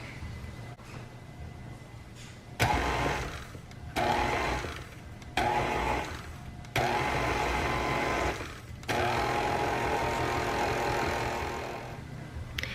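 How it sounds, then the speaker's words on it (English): Electric hand mixer whirring through flour mixture and cookie dough in a bowl, running in several loud steady bursts separated by brief pauses, with no talking. "Add the flour mixture to the bowl and mix until it is well blended"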